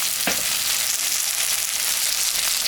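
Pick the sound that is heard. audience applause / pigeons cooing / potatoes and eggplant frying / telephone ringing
potatoes and eggplant frying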